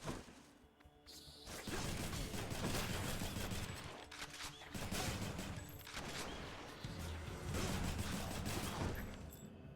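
Gunfire from the gun weapon in the video game Hades: rapid bursts of shots with crashing impacts, dense and loud, running almost continuously with short breaks.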